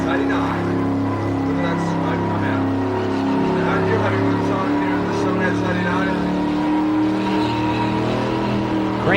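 A 1980s street machine at the Summernats holds a loud, sustained engine roar with its tyres spinning in smoke, the revs rising and falling over a constant rumble while a commentator talks over it.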